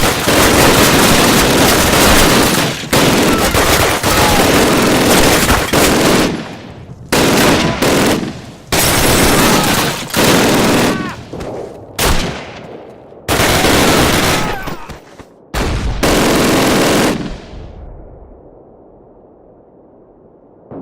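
An MG42 in Call of Duty fires in loud, rattling bursts of rapid shots, each a few seconds long. Short gaps separate the bursts, and the fire stops with a fading echoing tail at the end.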